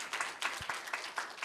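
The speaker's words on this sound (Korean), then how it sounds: "박수 한번 주시죠" Brief, faint applause from a small audience: a light scattering of claps in quick pulses, quiet and somewhat distant, lasting only a moment.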